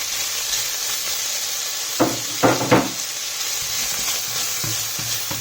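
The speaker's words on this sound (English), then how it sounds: "Look for a great sizzle." Steady sizzle of bacon rendering its fat in a hot frying pan, with a few sharp clatters of utensils against the pan partway through.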